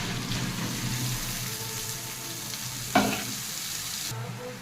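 Soaked spice paste of tomato paste, chilli, cumin and turmeric steeped in water sizzles steadily in a pan for prawn-stuffed potol dolma, with a sharp clink partway through and the frying continuing to the end.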